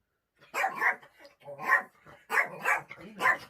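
A dog indoors barks close by in four short, sharp bursts separated by brief pauses.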